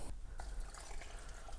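Water pours into a cooking pot of chile verde with chicharrón, lime and peppers, a soft continuous splashing trickle, close but quiet.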